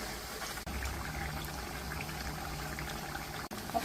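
Prawns deep-frying in hot oil for a Kerala-style prawn pickle, a dense, steady bubbling sizzle that runs unbroken and fairly close throughout, with no talking.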